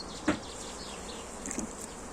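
Anatolian honey bees buzzing around an opened hive in Eskişehir, a dense close hum with individual bees droning past, and no talk.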